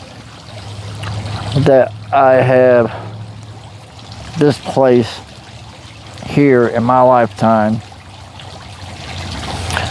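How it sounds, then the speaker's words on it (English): A fountain's cascading water makes a soft, continuous splashing wash beneath someone speaking in bursts, then carries on alone between his phrases. "I can sit here and listen to the cascading water of the fountain."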